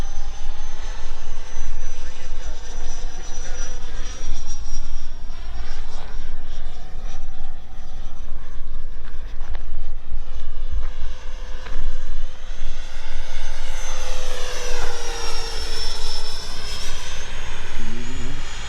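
An FMS Integral 80mm electric ducted fan model jet flying overhead, its loud whine rising and falling in pitch as it passes and turns, steady throughout with a strong sweep near the end.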